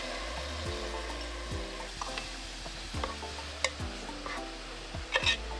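Dal poured into a hot pan for a Mauritian Tamil vegetarian curry sizzles and fries steadily, with faint stirring clicks and a few louder crackles near the end, and no voices.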